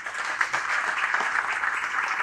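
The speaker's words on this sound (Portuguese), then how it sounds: "uma salva de palmas" An audience at a São Paulo event applauds in a dense, steady wash of clapping that fills the whole moment at moderate loudness.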